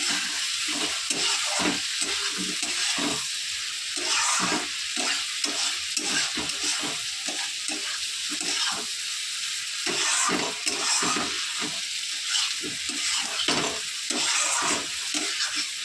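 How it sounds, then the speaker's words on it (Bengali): Potatoes fry in a pan with a soft, continuous sizzle broken by rhythmic, repeated stirring scrapes throughout, fairly quiet and with no voices. "এখানে আলু ভাজা হচ্ছে।"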